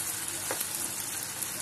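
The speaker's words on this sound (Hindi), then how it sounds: "फुल फ्लेम पे प्याज को भूनेंगे हम जब तक ये गोल्डन ब्राउन ना हो जाए।" Onions fry on full flame for a Qabuli chana chole, giving a dense, even sizzle up close with a faint crackle running through the short stretch.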